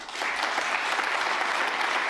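Audience applause breaks out during a political speech at a security conference, a dense, steady wash of clapping that holds loudly for about two seconds and then cuts off abruptly.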